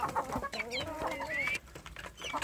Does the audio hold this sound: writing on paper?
no